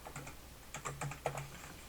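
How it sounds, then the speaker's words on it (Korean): Quick bursts of keystrokes on a computer keyboard, a few taps then a denser run of clicks over a steady low hum, close and moderately quiet, no voices. "키보드 그림자 입력하신 다음에 엔터"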